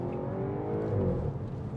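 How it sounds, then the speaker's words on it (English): Audi S4 3.0 TFSI V6 with S tronic and quattro, engine note heard from inside the car as it pulls and revs steadily, a continuous low drone that swells slightly midway. "I might have to drop it down a few gears, give us a proper soundtrack."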